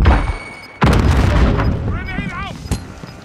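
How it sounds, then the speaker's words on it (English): Grenade blast in Call of Duty Modern Warfare: one sudden loud boom hits partway through and rolls into a broad rumbling tail, with gunfire and other battle noise around it. "Grenade out!"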